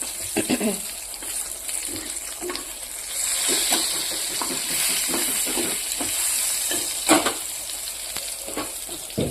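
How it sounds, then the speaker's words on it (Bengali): Pieces of bitter gourd (karela) frying in oil: a loud, continuous crackling sizzle close up, with bursts of spattering and a few clattering touches of a utensil. "কয়েক পিস করলা এবার ভেজে নেব"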